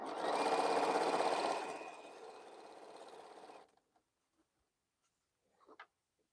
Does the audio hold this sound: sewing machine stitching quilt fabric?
yes